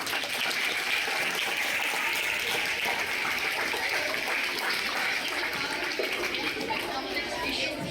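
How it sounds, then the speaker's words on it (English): Audience applause after a school debate for seventh and eighth standard students, a continuous, even roar of many hands clapping with crowd chatter mixed in, steady throughout. "Please give them a big round of applause."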